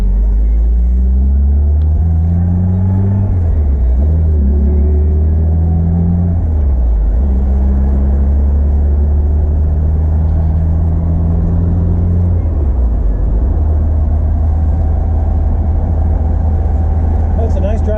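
A 1979 Fiat Spider with a rebuilt transmission, new radiator, starter and flywheel drives on a test run, its engine droning loud and close and rising and falling through the gears.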